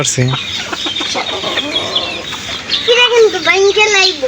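Several chickens cluck and squawk close by in short repeated bursts while a person talks over them.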